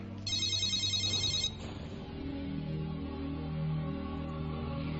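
A cell phone rings in one bright electronic burst, near and clear, then stops, leaving a quiet room with faint low hum.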